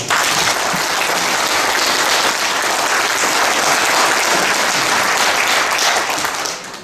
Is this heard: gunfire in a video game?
no